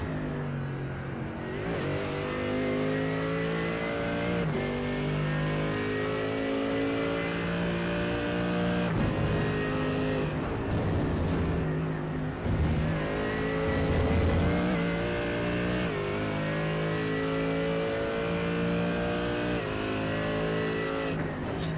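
Mercedes AMG GT3 EVO race car in a racing sim at Road Atlanta, its engine roaring loud and steady throughout, with repeated rev climbs and downshift drops as it laps the short track.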